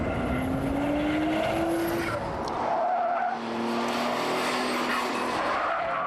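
A race car driven hard with a twin-turbocharged Ford Mondeo V6 engine, a loud continuous roar with rising pitch through the gears, tire squeal and a brief dip near the middle at a shift.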